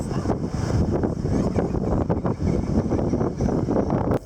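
Strong gusting wind roars against the microphone on a windy day in Cozumel with rough surf, a continuous blustery rumble with brief dips, close and loud throughout.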